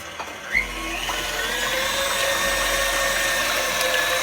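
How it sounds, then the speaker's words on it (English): An electric mixer whirs up to speed and runs steadily as eggs are beaten until foamy for German Lebkuchen spice cookie dough, a close continuous motor drone after a brief clatter at the start. "We're gonna beat the eggs and then till they're foamy."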